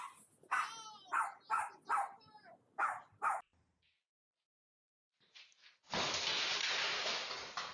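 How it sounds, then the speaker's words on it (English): Dogs bark indoors at a package delivery in a quick series of about eight loud, close barks, then fall silent, followed by a faint rustle and a burst of steady broadband noise. "Even when the dogs are inside, their barking can still scare off their nemesis."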